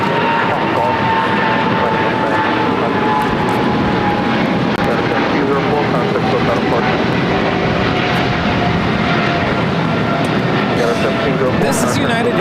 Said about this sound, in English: This is United Airlines 1704 taking off to Newark on a 777-200 ER